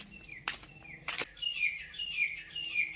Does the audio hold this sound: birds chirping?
yes